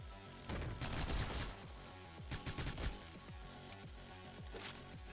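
Silenced pistol shots in the video game OTXO fire in quick bursts of sharp, muffled pops, several shots close together and repeated over a few seconds against a busy background.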